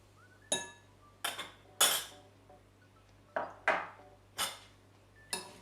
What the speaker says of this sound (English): mix that all up nicely and evenly